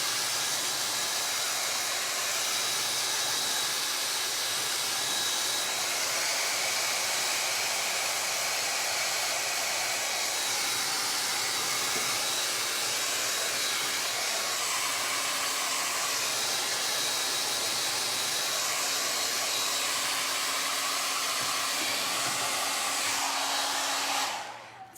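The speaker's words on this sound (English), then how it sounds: "I'm gonna grab my blow dryer just for a second." A hair dryer blows steadily at close range with a constant airy roar, running without pause and cutting off at the very end.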